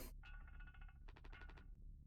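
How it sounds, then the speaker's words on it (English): Telephone ringing in the background in the video game Mouthwashing, a rapid trilling electronic bell in two bursts over a low rumbling hum, fairly faint. "Sounds like a phone is ringing in the background."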